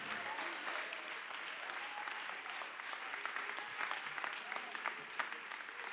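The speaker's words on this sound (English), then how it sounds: "clap your hands to this God" A church congregation claps during a sermon, with steady, sustained applause from many hands filling the room at moderate volume and a few voices faintly underneath.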